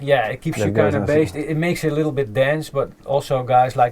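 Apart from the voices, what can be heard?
None of the usual background noises is heard.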